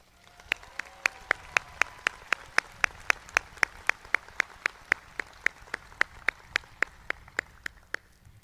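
Applause at a college commencement ceremony, heard as a long run of evenly spaced sharp claps, roughly three per second, fairly distant and moderate in level with no talk over it.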